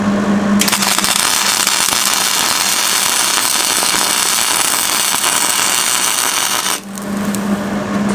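Welding light guards onto a Ford F100 utility trailer, a loud continuous crackling buzz that runs for several seconds close by, then stops with a brief dip and resumes.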